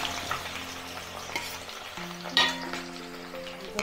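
Colocasia (arbi) fries in very hot oil in a kadhai with a steady hissing sizzle, a few crackling bursts and a faint hum underneath.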